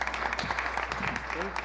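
A seated audience claps steadily through the whole stretch at a leadership challenge event, a dense, even patter of many hands with a few scattered voices mixed in.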